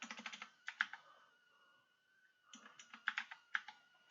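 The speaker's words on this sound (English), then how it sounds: "Then we'll type in the name of our malware," Close, quiet keystrokes on a computer keyboard come in two quick bursts of typing separated by a short pause.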